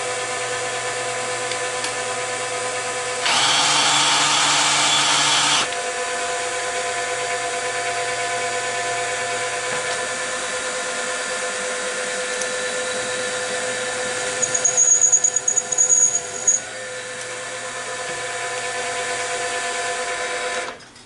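Metal lathe turning a chamfer on an MT2 quick change tool holder part, a steady high whine with harmonic tones throughout, a louder burst partway through and a brief chattering scrape later, no talking.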